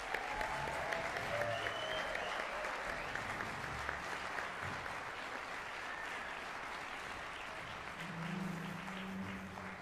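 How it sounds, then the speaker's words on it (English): An audience in a concert hall gives sustained, dense applause for a high school symphonic band at a wind symphony concert, heard as a steady wash of clapping from a distance at low level for about ten seconds. "maybe one more round of applause for Cedar High School Symphonic Band."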